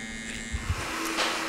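Electric hair clippers with a 1.5 guard, opened toward a 2, buzz steadily while trimming the sides of a man's haircut, close and continuous, with brief louder bursts as the blade meets hair.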